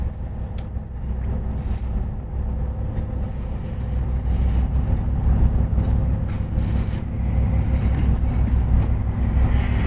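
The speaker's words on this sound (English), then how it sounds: "Our first shot of 1860 is of the train reversing down the main line." Beaufort & Morehead locomotive 1860 reversing down a main line, a steady, loud low rumble of engine and rolling rail cars that swells slightly midway and holds throughout with no speech.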